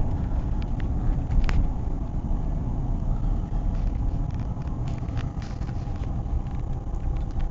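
A car driven by an elderly grandpa rolls past rain-damaged crop fields, its engine a steady low rumble mixed with wind buffeting the microphone and a few faint clicks.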